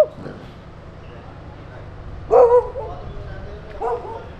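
A small dog on a road trip lets out a short yip or two in the middle, then a softer sound a moment later, heard against a low background rumble.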